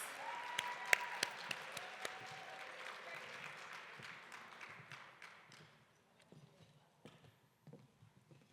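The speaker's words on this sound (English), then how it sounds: "Let's give them one more round of applause as they get their seats." An audience at a gala applauds authors as they take their seats: brisk clapping that thins and fades over several seconds, leaving scattered claps.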